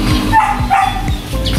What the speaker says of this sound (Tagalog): Ang ingay ng aso guys